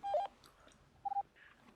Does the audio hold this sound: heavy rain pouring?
no